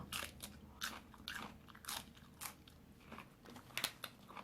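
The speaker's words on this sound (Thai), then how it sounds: "เคี้ยวแทบไม่ขาดเลย" Someone chews tough, wilted dill eaten with a pounded cucumber and fresh shrimp salad, making faint, close crunching bites in an irregular rhythm of eight or so bursts, with no talking.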